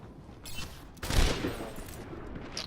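Widowmaker's sniper rifle in Overwatch fires during a 1v1 tournament match, with a couple of sharp, punchy shots in quick succession over a steady game-ambience bed, the second louder and ringing out briefly.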